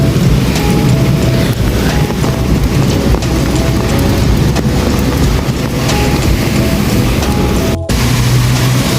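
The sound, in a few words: thunder and rain in downtown street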